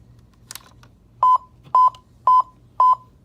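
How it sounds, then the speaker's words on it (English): A Lionel Thomas & Friends ready-to-play toy train beeps while searching for its remote signal: four short, loud electronic beeps at an even pace, close by, with no talking. "Now that beeping means that it's searching for a signal."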